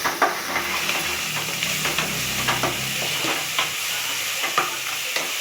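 Fish curry base with salt sizzles in hot oil while a spoon stirs and scrapes the pan, giving steady frying hiss broken by frequent close clinks and scrapes.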